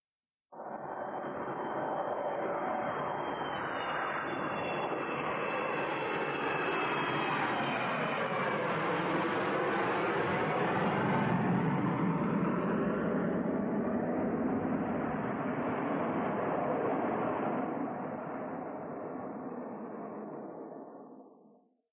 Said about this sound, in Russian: Звук взлетающего самолета звучит громко